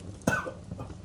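A single short cough, fairly quiet, followed by faint breathy trailing sounds.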